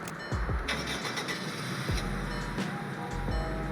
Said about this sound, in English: here is the startup sound.